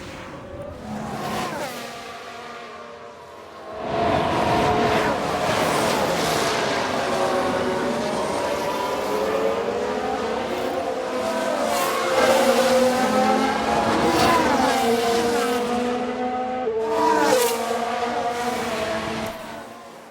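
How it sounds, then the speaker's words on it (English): Formula 1 race cars roar and rev past in an F1 Manager 22 replay of a crash, engines rising and falling in pitch across the track, loud and continuous. "Just had a crash on the track."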